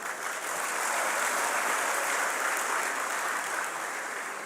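A live audience at a Marathi stand-up comedy show claps steadily, a dense and fairly distant wash of applause that swells slightly and holds for several seconds without any talking.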